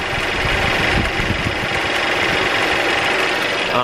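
A 2015 Mercedes W205 2.0 turbo engine with a worn drive belt, tensioner or idler pulley runs steadily up close, a constant mechanical drone with faint irregular ticking and a thin whine underneath.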